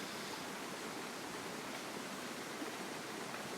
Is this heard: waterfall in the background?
yes